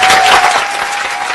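A brief burst of dense, loud applause from many hands fills a radio broadcast studio at the close of a program.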